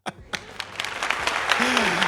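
A burst of audience clapping at a metal festival podcast taping builds into sustained applause, close and fairly loud, with a low voice briefly audible underneath.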